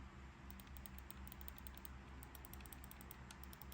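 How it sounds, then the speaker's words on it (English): Buttons on a Mojhon Storm game controller are pressed in quick, light, irregular clicks, very faint and close against a low background hum. "Very quiet for clicky buttons for sure."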